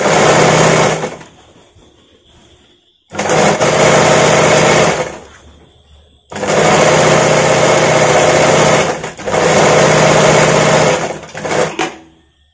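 A sewing machine stitching a blouse waistband runs in loud high-pitched whirring bursts, four long runs separated by short pauses, close up with no talking.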